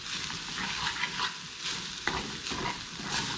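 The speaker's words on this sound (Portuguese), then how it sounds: "E assim eu vou apurando e cozinhando a cenoura e o PTS." Carrot and textured vegetable protein sizzle steadily in a pan, with stirring scrapes and small crackles running throughout at a close, moderate level.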